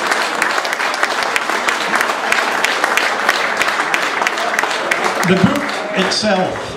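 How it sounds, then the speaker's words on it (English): An audience at a football club centenary reunion breaks into sustained, dense applause, many hands clapping steadily at close range before it begins to thin near the end. "Give him a round of applause."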